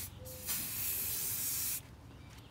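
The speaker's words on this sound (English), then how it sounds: "just spray the coating" Spray coating is applied to old front door hardware, one steady hissing burst lasting just over a second, close and loud, with faint quieter hiss before and after and a small click at the end.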